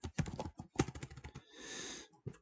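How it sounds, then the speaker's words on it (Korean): Quiet, uneven typing on a computer keyboard, clusters of close key clicks with a short pause filled by soft breathy noise before the tapping resumes. "뭐 타이핑이 잘안 돼요. 원래 타이핑 잘 맞는데."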